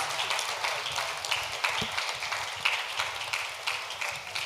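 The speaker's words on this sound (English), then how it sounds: "Let's give them all a round of applause." An audience applauds the spellers at a secondary school spelling bee, a steady wash of many hands clapping at a moderate distance that holds level for several seconds with no voices over it.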